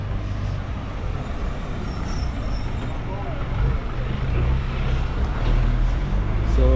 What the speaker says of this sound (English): So kids are coming home from school. That's why you can see the buses